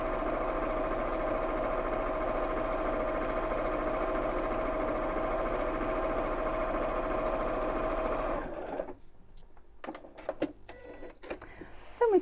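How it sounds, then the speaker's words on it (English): A sewing machine stitches a ribbon seam with back stitching, a steady close whirring run for about eight seconds that stops, followed by faint handling noises. "So let's back stitch at the end there and just sew straight down."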